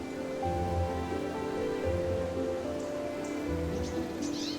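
Rain falls on a mountain road, a constant soft hiss of drops on wet pavement, with low rumbling tones swelling and fading beneath it.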